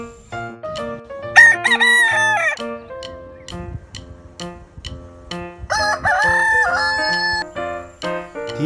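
A rooster crows loudly and close twice in succession, each call a long strained cock-a-doodle-doo, with clucking fowl and farmyard sounds between the calls.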